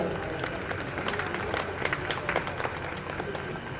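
An audience claps at a ceremony honouring Swami Vivekananda at Shobhabazar Rajbari, a scattered, moderately distant round of applause with a voice talking over it.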